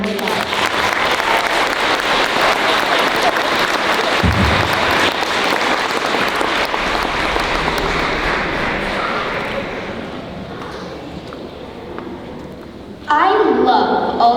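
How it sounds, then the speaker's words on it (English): A school assembly audience applauds dancers, sustained clapping from a sizeable crowd that slowly fades, followed by a voice speaking near the end. "Let's give these dancers another big round of applause."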